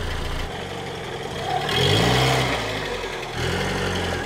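A warm Peugeot car engine runs while the car reverses, idling steadily and then swelling into two moderate revs, close and loud, with no talking.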